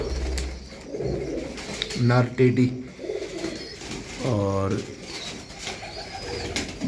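Bred pigeons in a loft where eggs are hatching coo softly in low, repeated murmurs, heard under someone talking nearby.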